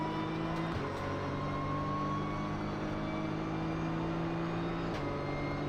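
A GT3 race car engine drones at high revs during a race at Suzuka, its pitch stepping abruptly at two gear changes, heard steadily from inside or close by.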